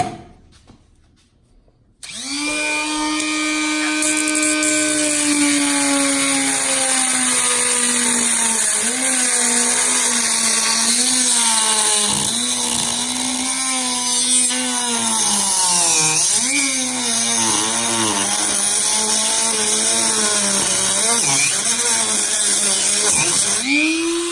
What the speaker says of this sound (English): We're going to use a Dremel